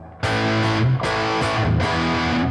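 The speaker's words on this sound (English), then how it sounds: "if you move to, say, the spring reverb" Heavily distorted electric guitar chords through a NUX Mini Core pedal's spring reverb ring out in three strums, each trailing into a washy, springy reverb tail.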